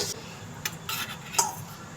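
A spoon stirs gram flour roasting in ghee in a pan for besan barfi, giving a few soft scrapes and light clinks over a quiet, steady background.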